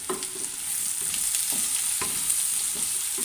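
Onions with a pinch of turmeric sizzling steadily in a hot pan while being wilted, with a continuous hiss and a few soft scraping stirs, close and moderately quiet.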